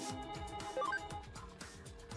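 A phone rings in the video game Digimon Story Cyber Sleuth Hackers Memory: a repeating, beeping electronic ringtone sounds over the game's rhythmic background music.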